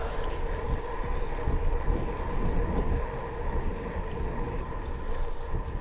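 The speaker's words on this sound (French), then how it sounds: "on se tape un vent de face assez violent." Strong headwind buffets the microphone during a gravel bike ride in a steady low roar, with rushing air noise throughout and no clear voices.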